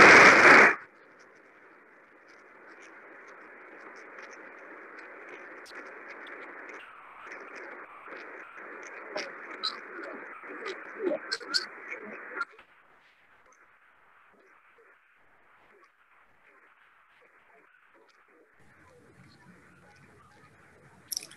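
Moon bounce radio signal echoed back from the moon, heard as a faint, steady band of tonal noise lasting about twelve seconds after a loud burst, then falling away to near silence.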